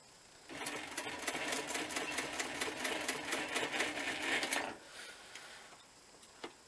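A sewing machine stitches the hook side of a hook-and-loop strip on a bushcraft working vest, a fast steady run of needle strokes for about four seconds that stops, followed by quieter handling.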